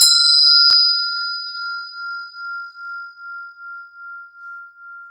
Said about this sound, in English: I'm going to ring a tone here. This is going to be loud if you've got headphones on